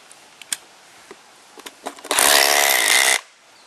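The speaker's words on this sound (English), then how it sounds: "We're going to use a 9/16 inch socket head and then just drive them straight into our pilot holes" A power driver with a 9/16 inch socket runs for about a second, a loud steady whir of an anchor being driven into a pilot hole in road plate, after a few light clicks and taps.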